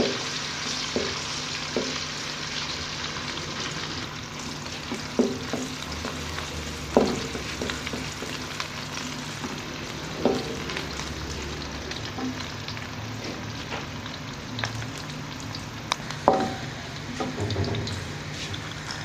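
Onions sizzle steadily in hot ghee, with periodic scrapes and taps of a spoon stirring the pan; no one speaks.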